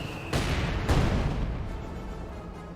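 Mortar fire in Company of Heroes 2 lands as two heavy booming blasts in quick succession, loud and close, each trailing off into a long, rumbling decay.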